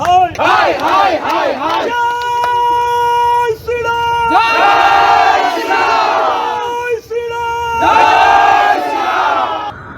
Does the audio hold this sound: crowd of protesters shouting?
yes